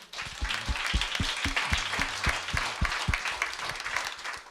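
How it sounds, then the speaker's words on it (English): Applause from a panel audience, many hands clapping steadily, with a few louder, rhythmic claps nearby punching through the general patter, sustained throughout. "Let's go ahead and applaud them anyway"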